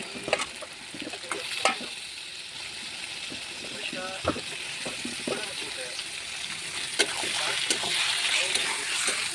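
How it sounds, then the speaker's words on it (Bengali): Desi chicken is tipped into a hot pan and fries with a loud close sizzle, with splattering bursts, scraping and clattering of the spatula, and the sizzle builds toward the end. "এবার দিয়ে দিচ্ছি আমি দেশি চিকেন"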